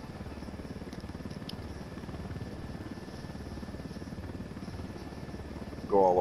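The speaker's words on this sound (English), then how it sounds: "Hey, there's another chopper down there." Helicopter in the open-world shooter Ghost Recon Wildlands, a steady rotor thump and engine whine at moderate distance throughout, with a brief voice cutting in at the very end.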